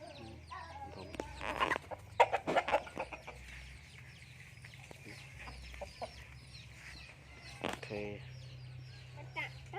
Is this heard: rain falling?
no